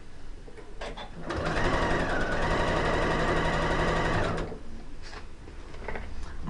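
A sewing machine runs a steady burst of stitching through a quilt block for about three seconds, with quieter handling noise before and after.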